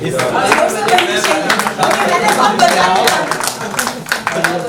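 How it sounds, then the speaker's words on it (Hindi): Audience at a Mumbai mushaira poetry gathering clapping in a steady, dense burst of applause, fairly close and continuous throughout, with voices mixed in underneath. "तालियां बजनी चाहिए भाई"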